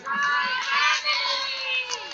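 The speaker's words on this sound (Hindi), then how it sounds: "तो एक बुलंद आवाज करके सब मेरे साथ पुकारेंगे, वी आर टपाल फैमिली" A crowd of women at a Tapal family event shouts together in unison, a loud, sustained massed chant of many voices filling the space close by.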